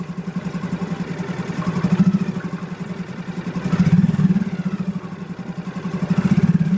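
A Suzuki 6 HP four-stroke outboard motor running steadily after a cold start during winter storage, with a close, loud, even chugging idle that swells a few times in rhythmic surges.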